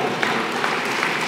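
An audience at a 2018 graduation ceremony applauding, a dense, continuous wash of many hands clapping at steady volume throughout.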